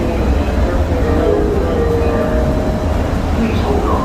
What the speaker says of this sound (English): this Skylink train will get up to 40 miles an hour